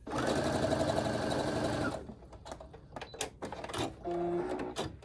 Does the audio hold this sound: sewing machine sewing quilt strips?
yes